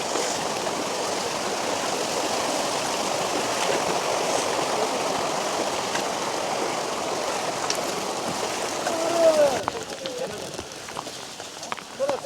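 Steady rushing of a forest stream flowing over rocks on the Panhala to Pavankhind trek in Maharashtra, continuous and close, with faint voices and footsteps near the end.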